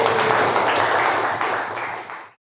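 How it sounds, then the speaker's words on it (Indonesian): Classroom applause for a student named Augie during a lesson, a short burst of dense clapping from a group of pupils that fades out after about two seconds. "Berikan tepuk tangan untuk Augie."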